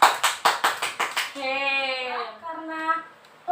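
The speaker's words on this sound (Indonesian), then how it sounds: "sekarang kita memberikan aplaus atau tepuk tangan" Students in a classroom clap hands in a quick, steady burst of about eight loud, close claps, then stop as a child's drawn-out, sung or chanted voice carries on alone.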